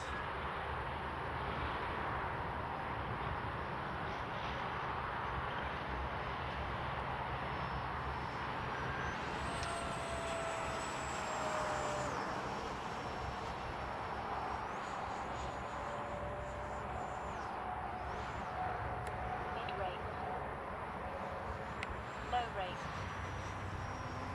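A Freewing Yak 130 model jet with a 70mm electric ducted fan flies overhead, a steady whooshing roar with a thin high whine that rises and falls as throttle changes, heard from the ground throughout.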